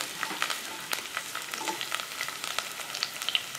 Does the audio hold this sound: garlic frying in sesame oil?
yes